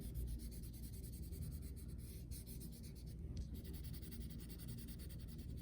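A pencil shades across paper with a soft, continuous scratchy rubbing, faint and close, steady throughout with only slight pauses.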